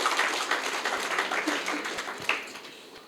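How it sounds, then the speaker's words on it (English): Scattered clapping rises from a staff retreat and award ceremony audience for a forex company, a modest, uneven patter that thins toward the end. "Can we give the institution a round of applause for that?"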